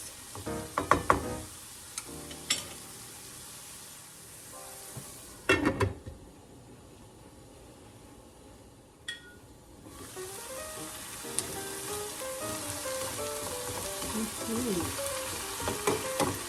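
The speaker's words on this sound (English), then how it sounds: "Cook until the Ampalaya or bitter gourd is soft" Bitter gourd (ampalaya) frying in a pan, a continuous close sizzle with scattered clanks and scrapes of a utensil against the pan, a brief quieter stretch midway, no speech.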